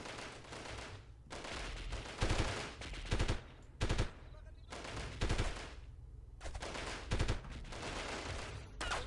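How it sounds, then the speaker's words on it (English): Bursts of automatic gunfire from the 1998 game Delta Force come in repeated loud volleys separated by brief pauses, with sharp heavier shots standing out between the sustained rattling. "someone else is shooting at me"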